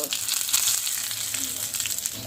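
Mustard-free tempering of cumin, black pepper, dried red chili and asafoetida sizzling in hot ghee: a steady, close hiss dotted with small crackles and pops, with no voices.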